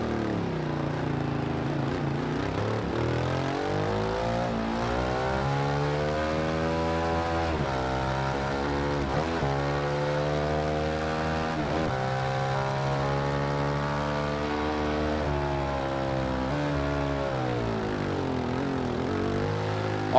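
A steady, droning 800 cc Ducati Scrambler Icon motorcycle engine in the video game Ride 2, with rising and falling revs, continuous and close, with no voices.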